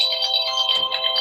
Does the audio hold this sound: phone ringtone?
yes